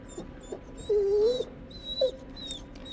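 A dog in the video game The Devil In Me lets out a thin, drawn-out whimper followed by a shorter whine, close and plaintive over quiet ambient background.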